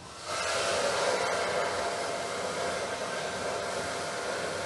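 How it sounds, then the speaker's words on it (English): A hair dryer switches on and blows with a loud, steady whooshing hiss close to the listener, running continuously without pause. "the hair dryer is going to be fairly loud"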